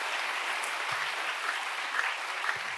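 A congregation at a leaders' retreat gives sustained applause in praise of God, a steady wash of many hands clapping at even loudness with no pauses.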